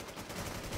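Faint, muffled gunfire in the Infestation survival shooter on the Rocky Ford map, a continuous distant rattle of shots buried in a low, noisy background.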